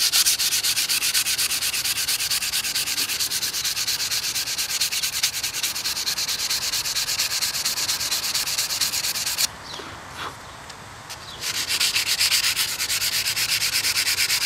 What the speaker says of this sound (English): I'm going to clean up the spine of this knife just a little bit to get the pickling off of it.